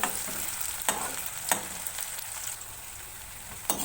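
Sliced onions with a bay leaf frying in a pan, a steady close sizzle broken by sharp scrapes and taps of a spatula stirring every second or so.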